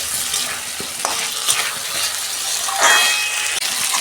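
Raw ginger and spices stir-fry in oil in a pan for a homestyle aloo dum, a close hissing sizzle broken by scraping stirs and a few light metallic clinks.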